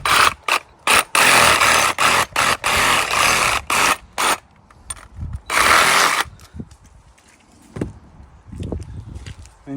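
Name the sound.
Sawzall reciprocating saw cutting through a hog carcass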